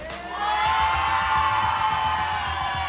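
A live esports arena audience at a VCT Americas Valorant match erupts in sustained cheering and whooping, a loud, broad roar that swells within the first half-second and holds steady throughout.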